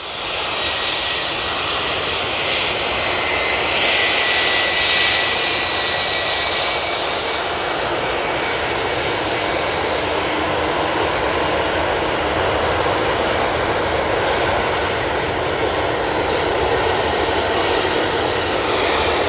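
Boeing 757 jet taxiing at Manchester Airport, its engines giving a steady, loud broadband whine and roar that holds evenly throughout with no talk.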